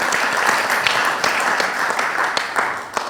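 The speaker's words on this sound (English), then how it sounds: "Oh, round of applause." Steady applause from a conference audience, many hands clapping together at an even level throughout.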